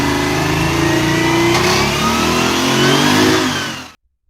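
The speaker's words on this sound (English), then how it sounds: "the Detroit Diesel 6V92 represents everything that made two-stroke diesels legendary" Detroit Diesel 6V92 two-stroke six-cylinder diesel engine revving hard and steadily near the mic, a loud sustained roar with rising and falling pitch for about four seconds before cutting off abruptly.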